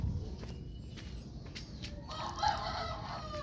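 A rooster crows in a home kitchen, one fairly faint call heard over a steady low rumble of background noise.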